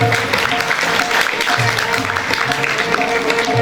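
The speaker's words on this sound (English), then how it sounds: "Please keep clapping louder." Applause fills a school award ceremony hall for a student ranked in a national economics olympiad, steady crowd clapping throughout with soft voices and tones beneath.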